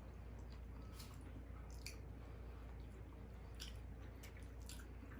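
Someone chews whole fried catfish with a crunchy cornmeal, flour and cornstarch coating. Soft, faint squishing and crunching bites repeat close to the microphone over a low steady hum, with no talking.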